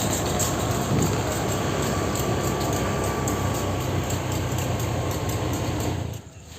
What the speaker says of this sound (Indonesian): kereta api Sri Tanjung masih standby di jalur 2 stasiun Kalisat ya